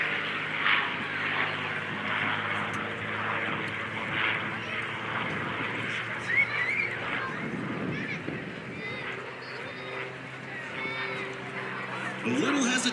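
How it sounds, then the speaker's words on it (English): Curtiss P-40 Warhawk warbird pulling up over the treetops into a climb at a 2023 air show in Monroe, its propeller engine a sustained fairly distant drone with a public-address commentator talking over it throughout. "As he comes just over the treetops with the pull back on the stick of the Warhawk, up into the skies"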